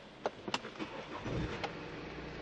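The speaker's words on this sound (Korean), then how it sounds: "이제 시동 한번 걸어보도록 할게요" A German sedan's engine, with carbon buildup, cranks and catches with a few sharp clicks at the start, then settles into a low, steady idle, recorded close up with no voices.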